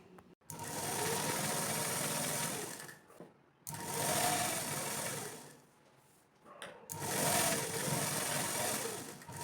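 A sewing machine stitches lining fabric at a half-inch seam in three long, steady whirring runs, each broken by a short pause, close and fairly quiet.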